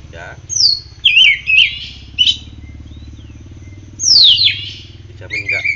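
Oriental magpie-robin (kacer) singing: bright whistled phrases and sharp rising and falling notes come in bursts over a steady low hum and faint insect-like buzzing, close and clear.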